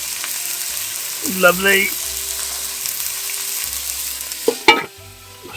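Food fries in a pan as it is turned over while cooking in a vehicle cab. A steady, close sizzle carries a couple of louder clattering turns, and someone speaks briefly.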